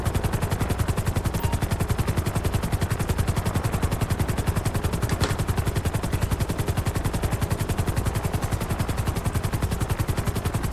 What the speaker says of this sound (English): waiting for this chopper to land